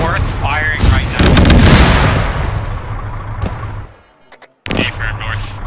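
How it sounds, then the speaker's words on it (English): Heavy gunfire and explosive blasts from a BTR armored vehicle in the ArmA 3 military game, a dense loud barrage for about four seconds that trails off, falls silent briefly, then resumes. "What direction is the BTR? To the north, firing right now."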